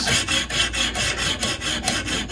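A knife blade drawn lightly across a Lansky sharpening system stone, giving a steady series of close, rhythmic raspy strokes about four per second, each a short gritty rub, with no voices.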